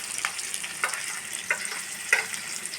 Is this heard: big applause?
no